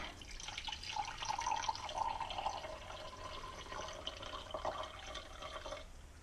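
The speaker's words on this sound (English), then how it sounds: "take this water from here and pour it into our cup" Water trickles and splashes steadily into a cup for several seconds, a close, continuous pour that stops near the end.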